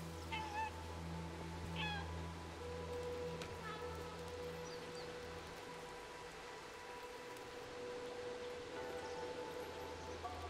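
A cat meowing several times near the start, short distinct meows over a faint steady background hum and a light rain-like patter, fairly quiet overall.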